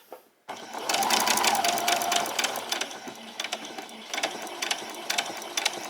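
Domestic sewing machine stitching a curved seam on pyjama bottoms with a back stitch, a steady rapid mechanical whirr that starts abruptly, runs continuously, then breaks into short bursts of stitching near the microphone.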